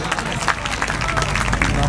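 An audience at a mushaira poetry gathering in Hyderabad breaks into dense, continuous clapping, with crowd murmur mixed in.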